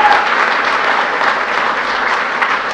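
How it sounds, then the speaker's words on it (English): Audience applause at a St. Patrick's Day speech event with the US President and Irish Prime Minister, steady and sustained clapping from a large crowd, filling the room evenly with no talk over it. "You can clap for that, please."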